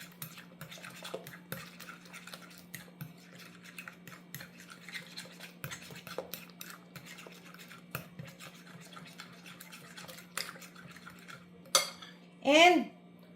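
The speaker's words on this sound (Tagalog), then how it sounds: "Ito guys, dalawang itlog. I-mix nyo siya." Two eggs are whisked in a bowl for banana oat bread, producing a steady run of light, quick clicks and taps of utensil on bowl, fairly close and soft, with a couple of louder scrapes near the end.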